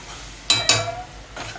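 Tomatoes sauté in a pan for a fish curry, with a quiet background sizzle broken by a few sharp spoon scrapes and clinks against the pan, close up and without speech.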